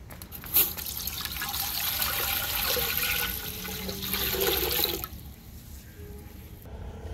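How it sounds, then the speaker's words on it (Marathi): Water pours in a steady stream for about five seconds, splashing into a pot, then cuts off, leaving a faint trickle and drip. "आता हे पाणी आपण पातेल्यात टाकून देऊ"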